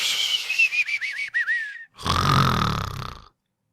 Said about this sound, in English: the snoring is not as